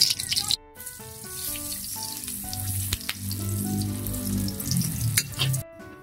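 Hotdogs frying in oil in a pan, a continuous sizzle with faint crackles, mixed with tonal clanking and a brief gap near the start, close and moderately loud with no speech.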